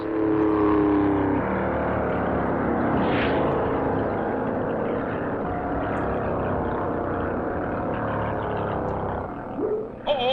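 Race cars roar past on the 1957 NASCAR Grand National beach-and-road course at Daytona Beach, a steady, loud engine drone with a passing whine near the end, no voices.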